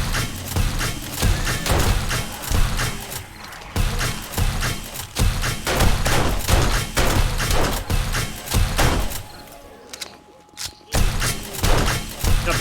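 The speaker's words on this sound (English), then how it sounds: "I'm gonna place the junk turret down. Have it shoot alongside me." A junk turret keeps firing at zombies during a blood moon in 7 Days to Die, a dense run of sharp, loud repeated shots and impacts with a brief pause near the end.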